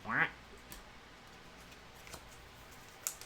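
A voice imitates a duck quack once during a hockey card group break: a single short, loud, nasal burst right at the start, followed by near silence.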